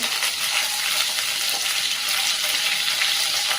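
Crushed garlic and curry leaves frying in hot oil for a capsicum and potato bhaji: a continuous, dense hiss and crackle of sizzling that stays fairly loud and even throughout.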